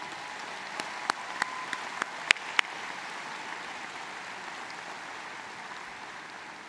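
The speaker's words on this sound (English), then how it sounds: "have a special round of applause for all the first-generation college graduates and their families" Large crowd at a university undergraduate commencement ceremony giving a round of applause for first-generation graduates, a distant steady wash of clapping with a few sharp nearby claps early on.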